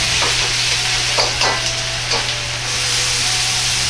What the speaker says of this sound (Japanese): カチカチと加熱してきたら揚げた材料を入れ